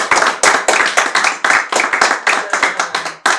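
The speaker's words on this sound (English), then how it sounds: "A round of applause." A small group claps enthusiastically in a run of loud, sharp, closely spaced hand claps, nearby and clear, with bursts of distinct slaps over a few seconds.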